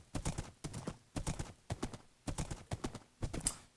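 Horse hooves clip-clop in Minecraft, a rapid run of blocky game footstep clicks in several quick bursts, with a brief high chime near the end.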